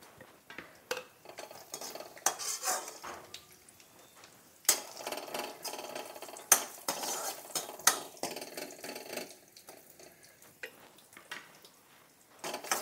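Cashews fry in a pan of oil already used for capsicum, carrot and green chili, with irregular close spoon scrapes and clinks against the metal over a faint sizzle, no one speaking.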